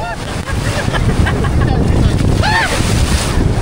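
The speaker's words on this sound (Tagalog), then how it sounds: "Ang laki ng alon" Loud, roaring surf of large ocean waves at Boracay with heavy wind buffeting the microphone, water crashing continuously while excited voices shout and call out over it.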